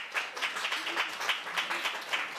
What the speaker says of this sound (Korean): 박수로 부탁드려요